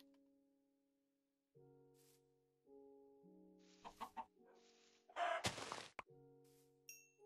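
Cartoonish Minecraft chicken clucks and squawks over steady synthetic game tones, with a few thunks and a louder burst of flapping noise near the end.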